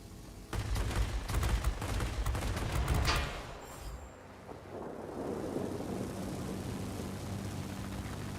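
Rapid aircraft cannon and machine-gun fire from a Bf 109 K-6 fighter in the World of Warplanes game, a dense loud burst lasting a few seconds over droning engine noise that then continues alone.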